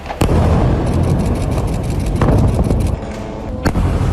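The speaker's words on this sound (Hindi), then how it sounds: "24 घंटे गाजा में धमाके गूंजते हैं।" Heavy booming explosions from attacks in Gaza hit repeatedly, several loud deep blasts with rumbling between them, sounding close and powerful.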